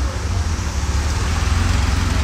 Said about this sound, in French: Et en parlant de Porsche, on a une autre sympathique qui passe juste devant.